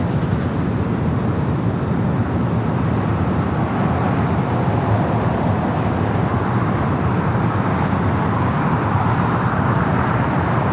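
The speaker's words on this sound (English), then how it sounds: "Speedbird, the A380 Super, now pushing back." A British Airways Airbus A380 pushes back at LAX at night, giving off a steady, mid-level engine rumble and hum that stays even throughout, with no talking.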